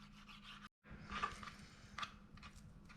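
Knife trimming silver skin off venison steaks, a soft, close scraping and rubbing with short strokes, faint and continuous with a brief pause.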